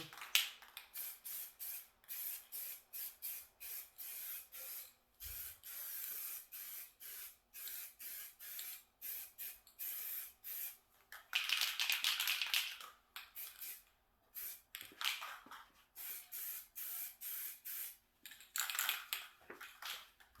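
Spray paint can applying paint to a 1993 Mustang Fox Body coupe, repeated short hissing bursts of spray with brief pauses between them, close and fairly quiet, some passes longer than others.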